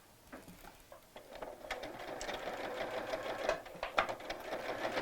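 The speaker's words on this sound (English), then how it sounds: "And sew round in a box shape on both pieces." A sewing machine stitches Velcro onto a small Barbie doll dress in a box pattern, its quiet, rapid needle patter starting faint and growing steadily busier and louder with brief irregular clicks.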